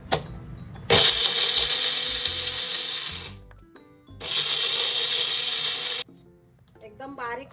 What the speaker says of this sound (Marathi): थोडं थोडं करून मी मिक्सरच्या भांड्यामध्ये घालते, दुधासकटच घालायचंय आणि 2 वेळा वाटून घेते मी